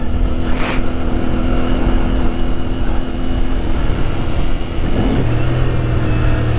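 Onboard a CFMoto 450MT motorcycle on the move, its engine droning steadily under loud wind rush, throttle rising and easing with a pitch shift near the end, no talk.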